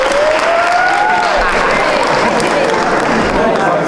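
Audience at a youth economic empowerment project event applauding, dense sustained clapping throughout, loud and close, with a few whistles or voices in the crowd.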